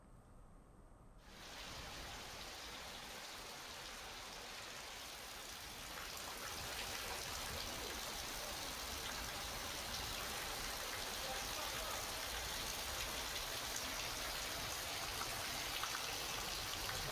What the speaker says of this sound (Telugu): నిన్న రాత్రి విశాఖ నగరంలో దాదాపు గంట పాటు ఉరుములతో కూడిన భారీ వర్షం కురిసింది